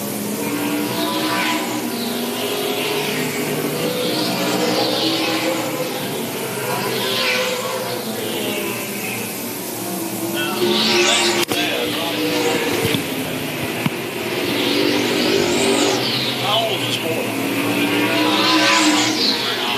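Stock cars racing at Tri-County Speedway, engines rising and falling in repeated sweeping passes, loud and continuous, with a race announcer talking over the track noise.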